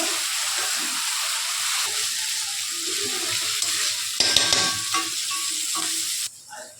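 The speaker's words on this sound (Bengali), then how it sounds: "সর্ষেটা দিয়ে ভালো করে এবার এটাকে আমি ভেজে নেবো।" Ground mustard paste fries with five-spice seeds in a pan, making a close, steady sizzle with a brief utensil clatter partway through before it suddenly quietens near the end.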